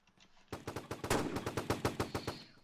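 Rapid automatic gunfire in the Roblox game Fortline, a steady burst of about a dozen sharp shots in quick rhythm, loud and close, with no talking.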